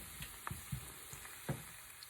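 Onion fries quietly in oil for refried beans, a faint low sizzle punctuated by a few soft knocks and stirs, fairly distant and with no voices.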